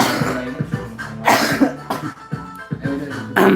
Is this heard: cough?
yes